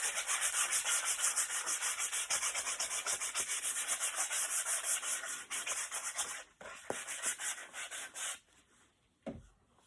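Sandpaper rubbed back and forth over a piece of wood for a craft project, making fast, rhythmic scratchy strokes that are close and steady at first, then slow into a few separate swipes and taps before stopping.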